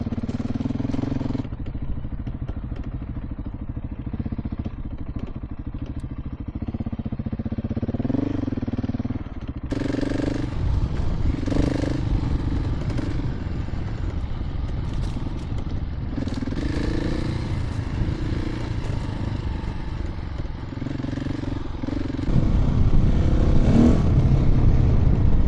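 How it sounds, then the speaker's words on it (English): Several motorcycles, including ordinary street bikes and a Ducati DesertX adventure bike, ride a gravel poker ride, with engines droning and revving under tire crunch and clatter, and louder throttle near the end. "Looks like these guys are riding with some normal street bikes."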